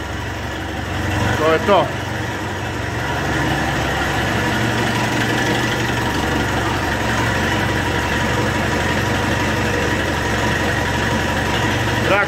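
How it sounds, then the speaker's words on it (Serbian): An IMT 560 tractor engine idles steadily after a cold start, a loud continuous low diesel rumble with a brief rise near the start. Someone speaks briefly over it. "Traktor u radu, ima vrlo snage, dosta."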